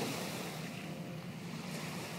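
Ocean waves break at a beach in a steady, continuous roar with some wind buffeting the microphone, fairly close and with no voices.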